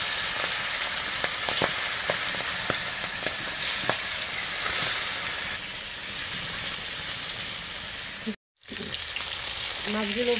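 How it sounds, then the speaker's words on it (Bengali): Fish fry in hot oil on a clay stove, giving a loud, continuous sizzle with scattered crackles and pops, cut briefly by a short gap near the end. "প্রথমে আমি মাছগুলো ভেজে নেব"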